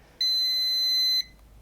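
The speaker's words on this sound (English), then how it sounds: "So I'm gonna have to let this run down, and it's gonna beep at me" Slevio portable gym timer sounding one loud, steady high-pitched electronic beep lasting about a second at the end of its countdown, alone against a quiet background.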